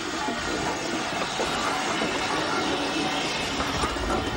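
A steam train bound for Hawkhurst calls at Goudhurst station on an 11.5-mile branch line, giving a steady mechanical rumble with faint clanks and hiss throughout.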